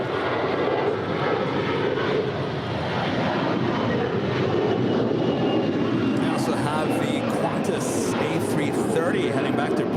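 A United airliner takes off from runway 25 right at LAX, its jet engines a steady, loud broadband roar that holds for the whole stretch, with some wind buffeting and faint voices mixed underneath.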